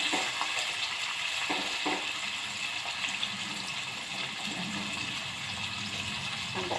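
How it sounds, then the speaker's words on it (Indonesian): Bitter melon, chili and tomato frying and being stirred in a pan, a steady close sizzle with occasional scraping stirs, no talking. "Aduk-aduk."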